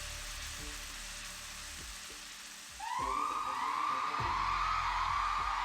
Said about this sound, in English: began sizzling inside as if eaten by acid